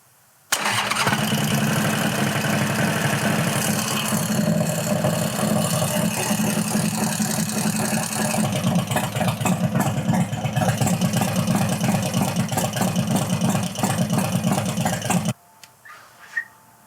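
A rubber-mount Harley Sportster 1200 chopper with a rebuilt top end fires up and runs loud and close with a clattery, noisy top end, then cuts off abruptly, leaving brief faint handling sounds.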